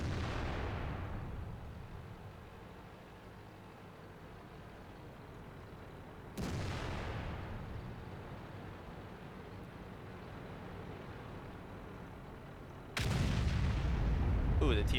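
Three heavy tank cannon shots in World of Tanks ring out about six seconds apart, each a sharp boom that decays slowly into a low rumble, with the last blast the loudest.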